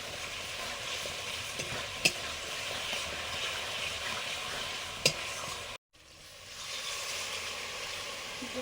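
Fried paneer and salt are stirred in a pan over a steady, fairly quiet sizzle, with a couple of sharp utensil taps against the pan and a brief gap near the end before the frying hiss resumes.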